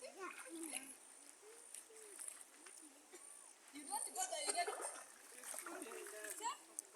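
A woman wades across a village river, sending up repeated close splashes and swishes of water, faint overall, with voices talking in the background.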